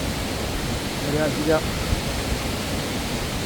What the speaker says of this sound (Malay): Sini sungai cantik.